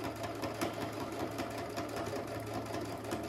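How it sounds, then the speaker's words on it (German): A Brother Innov-is 100 sewing machine stitching steadily at close range, its needle mechanism producing a continuous fast whirring rattle with an even hum underneath and no pauses. "Die Nähmaschine macht alles alleine."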